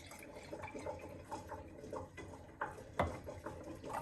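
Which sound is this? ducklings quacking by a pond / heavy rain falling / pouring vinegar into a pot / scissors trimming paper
pouring vinegar into a pot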